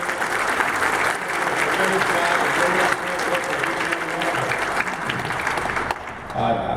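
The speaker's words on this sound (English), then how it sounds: "Will all you guys just stand up and get another round of applause" A conference audience gives a standing round of applause during a governor's keynote address, a loud, sustained crowd clapping with scattered voices and cheers that eases slightly toward the end.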